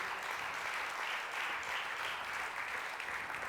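A church congregation applauds during a Spanish-language Friday service sermon on finances: a dense, steady wash of clapping from many hands that holds at an even level throughout, with no voices over it.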